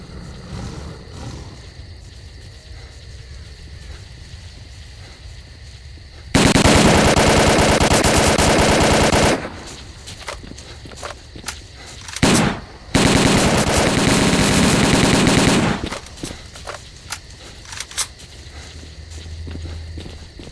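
Sustained automatic gunfire in the S.T.A.L.K.E.R. shooter game, two long loud bursts of rapid shots separated by a brief pause and a single sharp crack, with quieter footsteps and ambient game noise between them.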